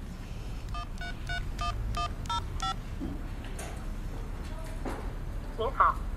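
A telephone number is dialed on a keypad, with about seven crisp touch-tone beeps in quick succession over a low background hum, followed by faint shuffling.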